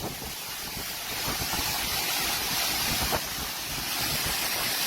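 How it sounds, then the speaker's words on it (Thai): Strong storm wind roars in a continuous, blustery rush that buffets the microphone, swelling slightly in the middle with no voices heard. "ลมแรงเอาเรื่องเลยหรือว่าแรงมาก"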